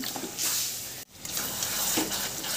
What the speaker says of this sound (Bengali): এবার এখানে ম্যারিনেট করা চিকেনটাকে দিয়ে দিচ্ছি।